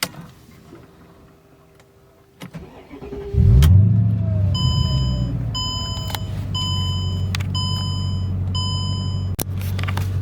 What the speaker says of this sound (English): Gonna go ahead and start it back up.